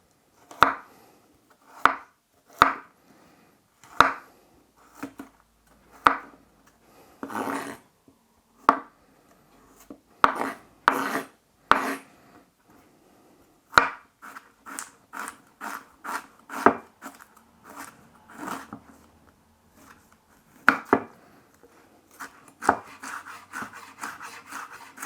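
A knife slices peeled fresh ginger finely on a chopping board, giving crisp, close cuts that come first as separate evenly spaced strokes and then as quicker runs of chopping, with no talk.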